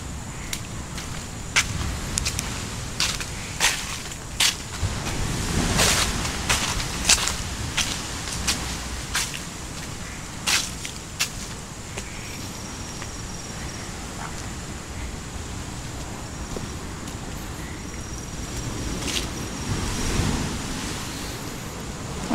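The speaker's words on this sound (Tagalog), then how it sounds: "Maririnig nyo yung alon guys, mga alulong ng alon." Steady broadband roar of ocean surf at an abandoned beach resort, with periodic swells of crashing waves, continuous and fairly loud, with wind noise across the microphone.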